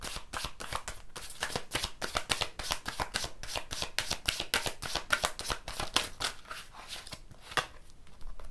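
Tarot cards riffle in a quick, steady flutter of crisp snaps, close and quiet, continuing without pause for several seconds.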